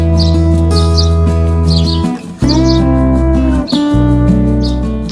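Small birds chirp in short, repeated bursts around an acerola cherry tree, their calls fairly faint above a loud, steady tonal drone that runs through the whole scene.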